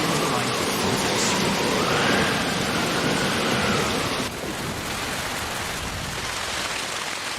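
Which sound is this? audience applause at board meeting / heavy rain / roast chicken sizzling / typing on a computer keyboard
heavy rain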